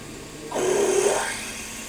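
A 4.6 mm drill bit boring straight through a small Stuart Models S50 engine part, with cutting fluid, as a steady whining, grinding tone that rises and holds for about half a second before fading into background hum.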